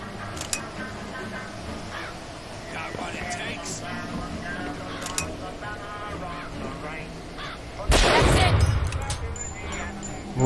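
A sniper fires in the video game BioShock Infinite: a single loud, sharp burst stands out near the end against steady game ambience and scattered distant noises.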